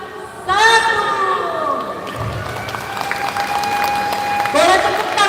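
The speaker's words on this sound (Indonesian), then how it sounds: "Boleh tepuk tangan yang tidak berhenti Bapak dan Ibu." Audience applause with a few cheers at the opening of the Grand Arlisco HV factory facility, right after a countdown. The clapping runs steadily and fairly loudly throughout, under an amplified voice speaking over it.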